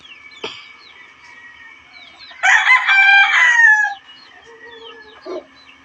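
A broiler rooster crows loudly once in the middle, with a sharp cluck before it and a brief squawk near the end, over faint background bird chirps.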